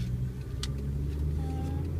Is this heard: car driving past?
yes